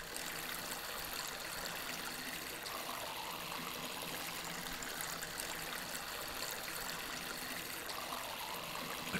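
Plants are watered in the video game Weed Farmer Simulator: a steady, faint hiss of streaming water runs continuously without a break and without talk.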